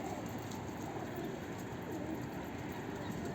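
Soft, low bird cooing mixed into a steady hum of background noise, continuous and fairly faint throughout.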